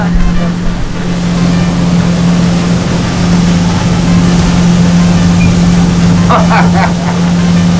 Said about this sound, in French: ici je me trouve au deuxième étage de ce bateau catamaran à moteur